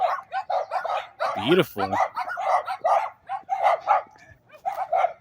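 Puppies outdoors let out several short, sharp yips and barks, mixed with a person talking nearby.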